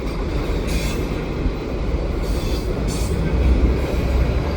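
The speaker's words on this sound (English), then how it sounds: "And the GATX gas train cars." A CN freight train hauling GATX gas tank cars rolls past close by, a loud continuous rumble and wheel roar with faint squeals and clatter throughout.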